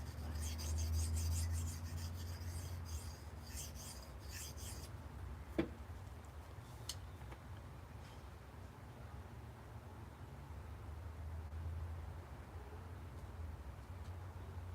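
A knife blade is worked across a finer whetstone, a steady gritty rasping that continues for the whole stretch, with one sharp click partway through and faint talk now and then.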